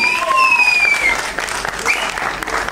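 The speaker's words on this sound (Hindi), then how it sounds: "सनी सर के लिए एक बार जोरदार तालियां लेडीज एंड जेंटलमैन." Audience applause at a film trailer launch event fills the hall, a dense, steady clapping crowd at close range that keeps its level throughout, with faint whistles and a host's voice briefly showing through.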